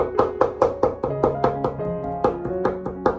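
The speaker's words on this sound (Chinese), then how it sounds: "我们用刀给它剁一下，剁细一点。" A kitchen knife chops lean pork into fine mince on a cutting board. About a dozen crisp, evenly spaced strikes land over steady background music.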